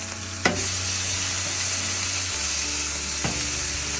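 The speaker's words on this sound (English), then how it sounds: "let's go ahead and flip these sausages over and see what we got" Sausages sizzle on a Blackstone griddle for smash breakfast tacos: a steady, close hiss of frying that runs throughout, broken by a sharp scrape or clank near the start and again toward the end.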